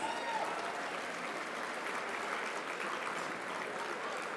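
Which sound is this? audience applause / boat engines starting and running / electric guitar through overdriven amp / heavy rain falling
audience applause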